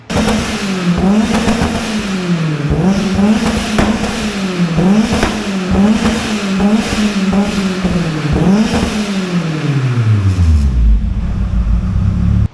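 A turbocharged Toyota 4A-G engine in an AE86 revs up and down in repeated swells, its pitch rising and falling rhythmically, loud and close, before winding down at the end.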